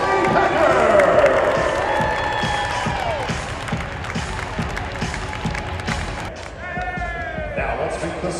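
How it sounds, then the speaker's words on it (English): A crowd cheers and applauds the Ball State women's basketball head coach, Kelly Packer, at the 2008 Fan Jam. The loud, dense, sustained clapping and whooping fills the whole stretch, and a voice calls out over it. "a big round of applause for head coach Kelly Packer"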